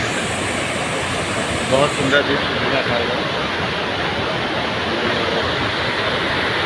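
Broad, steady roar of spray and rushing river water from a waterfall on the Narmada, constant and fairly close, with a person speaking briefly over it.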